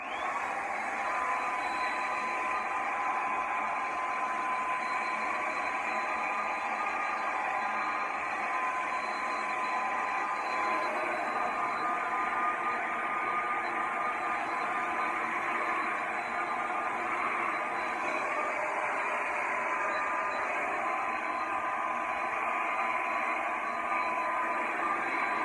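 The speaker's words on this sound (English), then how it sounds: "I wanted to kind of show you what I did with the blow drying portion of it" Hair dryer blowing on wet curly hair, a constant loud whooshing hum of air that holds steady and unbroken for the whole stretch, close by and with no voices.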